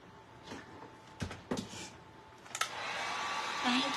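Several knocks and taps from handling a painted Christmas art piece come first, then a hair dryer switches on and blows steadily and close as it dries the paint.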